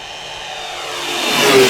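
Large 2000mm RC model of a WWII B-25 Mitchell bomber flying past, its engine whine rising and growing louder as it closes in, with no one speaking.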